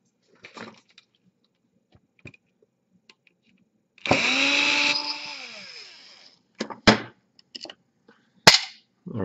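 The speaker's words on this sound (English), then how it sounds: "some of you would comment not to use power tools, but it gets my job a lot easier here." A power tool spins up on a small quadcopter drone motor during disassembly, one loud whirring burst of about two seconds that winds down, surrounded by sharp clicks and clatter of handling.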